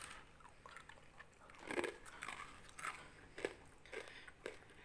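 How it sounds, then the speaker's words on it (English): Crunchy sago murukku, a crisp fried tapioca-pearl snack, being bitten and chewed up close, with a series of sharp crackling crunches repeating in an uneven rhythm against a quiet background. "It's so crunchy."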